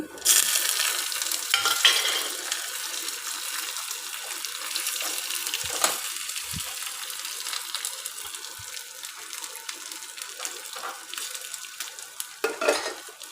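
Steady crackling sizzle of spices tempering in hot oil for a South Indian buttermilk curry, with occasional louder pops and bursts throughout, no voices.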